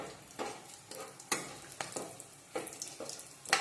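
Cinnamon sticks and cardamom pods frying in hot oil with a dried chilli, a steady close sizzle punctuated by regular scraping stirs about every half second.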